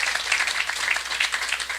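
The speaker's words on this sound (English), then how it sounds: "For Gary, we can clap for that" An audience at a public meeting claps steadily for a guest, a dense, even patter of many hands without pause and no voices over it.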